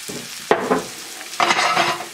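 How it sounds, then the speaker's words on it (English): Onions sizzle in a hot pan as Marsala wine deglazes it, with two bursts of scraping and stirring from a utensil over a steady frying hiss, close and fairly loud. "You want to deglaze these onions a little bit, make sure if there's anything sticking on the bottom of the pan, you get it mixed up in there."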